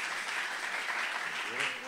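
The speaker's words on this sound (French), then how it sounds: "On l'applaudit, bravo." Brief audience applause at a French-language student competition in Iraq, steady clapping throughout with faint voices underneath near the end.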